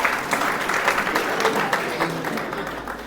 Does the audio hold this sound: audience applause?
yes